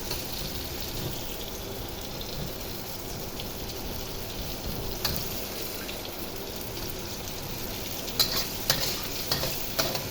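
Squid adobo sizzles and fries steadily in a pan while a utensil stirs and scrapes through it, a constant close crackle with a few sharper clinks near the end.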